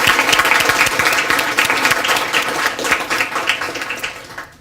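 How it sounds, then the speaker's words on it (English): An audience at a student of the year awards ceremony bursts into sustained, dense applause that stays loud, then thins and fades away over several seconds. "Let's give you all a great round of applause."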